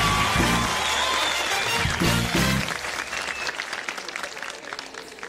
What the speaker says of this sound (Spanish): El aplauso fuerte para Iván Darío.